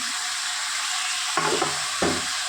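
Ivy gourd and potato dropped into a hot pan with turmeric and chili spices, giving a steady background sizzle of frying with two short bursts of clatter and stirring near the end.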